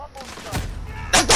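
Call of Duty gunshots ring out as two sharp close cracks, one midway and one at the end, over steady game background noise.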